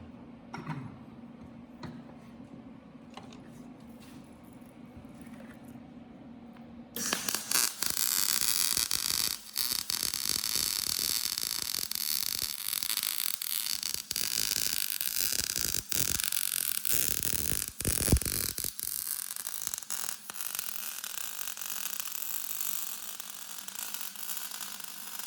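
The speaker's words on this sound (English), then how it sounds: "I'm gonna go ahead and finish welding this up real quick." Metal post dollies being welded in a shop: after a quiet hum, a loud, steady crackling buzz starts at about seven seconds and runs without a break to the end, with no talking.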